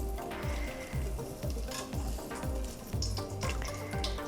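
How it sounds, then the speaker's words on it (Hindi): Whole bay leaves, cardamom and cloves fry in hot ghee for Bengali khichdi, giving a steady, close, broadband sizzle throughout, over rhythmic low tones. "थोड़े तेज पत्ता, थोड़ी सी इलायची, थोड़े लौंग, ये हम अंदर डाल के फ्राई कर लेंगे।"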